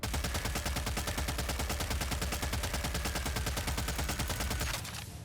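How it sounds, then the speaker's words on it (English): Automatic SCAR rifle fire in the video game Killing Floor 3, a loud steady stream of rapid, evenly spaced shots lasting about five seconds before cutting off into a brief ringing tail. "listen to the sound of the SCAR"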